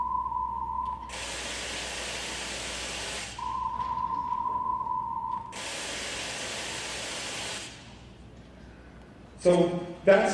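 Bursts of broadband hiss-like test noise alternate with a brief steady tone, two long noise blocks at moderate level, then a quieter stretch and a short louder burst at the end.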